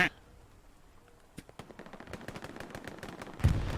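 Artillery and gunfire in the Hell Let Loose battlefield game, a rapid run of distant sharp reports that thickens into a dense volley, ending in a heavier nearby blast.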